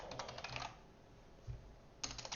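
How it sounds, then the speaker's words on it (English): Computer keyboard typing in two short bursts of rapid keystrokes, one at the start and one at the end, with a quiet gap between, fairly faint and close. "I am not good on the typing today."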